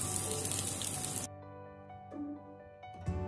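Curry leaves fry in hot oil for a Kerala-style avoli fish mappas curry, making a loud, crackling sizzle that cuts off abruptly, leaving a quieter background.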